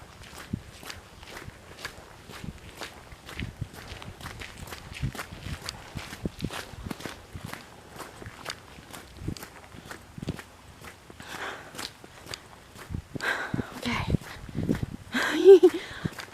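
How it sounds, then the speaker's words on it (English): Brisk footsteps of a person walking fast along an outdoor trail, a steady close rhythm of crunching steps throughout, with breathing and rustling growing louder toward the end. "I'm trying to walk kind of fast so that I can get out here"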